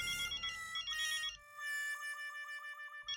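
A telephone rings at night with a repeated electronic ringtone pattern, clear and fairly close, with little else around it.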